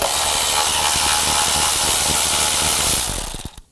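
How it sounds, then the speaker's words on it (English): A ratchet with a 10mm socket backs out ignition coil bolts on a 2005-2015 Nissan Xterra. The clicking runs loud, close and rapid for about three seconds, then slows and stops. "Use a 10mm socket. Take the bolts out."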